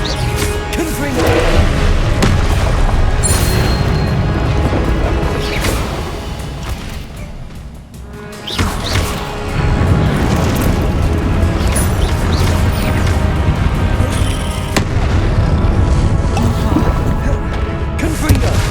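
Repeated Confringo fire-blast spells in the wizarding game Hogwarts Legacy, loud crashing bursts over dense continuous combat noise and music, with a brief lull midway before the impacts resume.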